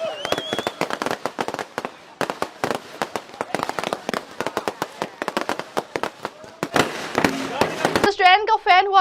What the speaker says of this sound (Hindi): ये धमाका सिर्फ हीलियम गुब्बारों के फटने से हुआ था